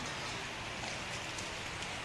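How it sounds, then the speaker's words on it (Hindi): Heavy rain pours steadily outside, a continuous dense hiss of drops with no pauses. "और बाहर हो रही है फ्रेंड्स बहुत ही खतरनाक बारिश।"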